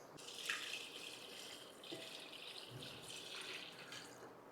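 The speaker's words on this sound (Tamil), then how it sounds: "இப்போது அந்த தண்ணி நம்ம சேர்த்துக்கலாம்." Water poured into a cooking pot for fish biryani, splashing and trickling in a quiet stream, faint and close, with small surges as the pour shifts.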